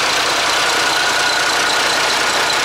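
A car engine idles steadily up close, a continuous rumbling drone with a faint rhythmic knock running through it.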